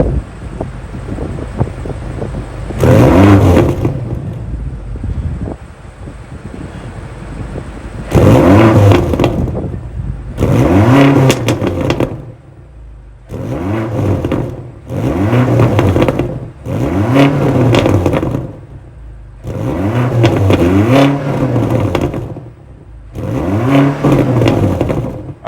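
A 2023 BMW XM's 4.4-liter twin-turbo V8 plug-in hybrid with active exhaust idles, then revs in about seven sharp, loud blips separated by short pauses, close to the exhaust, with no talking.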